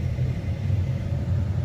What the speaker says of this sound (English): We got this motor going